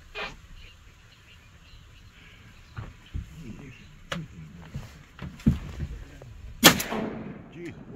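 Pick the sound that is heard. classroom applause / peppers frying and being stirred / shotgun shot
shotgun shot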